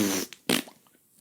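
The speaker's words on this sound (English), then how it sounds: "usually it ends with a fart." A short fart, a loud breathy burst followed by a brief second blat, then quiet.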